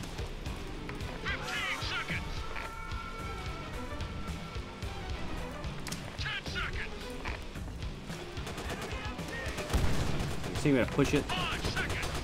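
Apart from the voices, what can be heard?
gunfire in Call of Duty World at War video game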